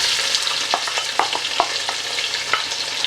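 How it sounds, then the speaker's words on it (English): Onions frying in a pan just after cumin seeds went into hot oil, a steady close sizzle with scattered small pops and crackles throughout, no talking. "And we're going to fry these until they're nice and golden brown in colour"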